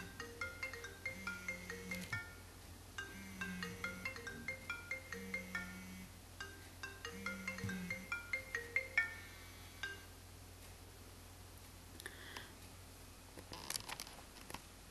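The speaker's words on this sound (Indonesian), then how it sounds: "memang ini ada suara telepon masuk" A phone ringtone for an incoming call, a faint repeating electronic melody in regular phrases that sounds quiet and distant, then stops with a few scattered clicks.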